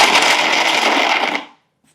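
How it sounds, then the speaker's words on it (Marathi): A kitchen mixer grinder coarsely grinds a raw mango mixture in a loud, rattling whir that runs for over a second before spinning down to silence. "आता हे देखील मिक्सरमध्ये भरड काढून घ्यायचं."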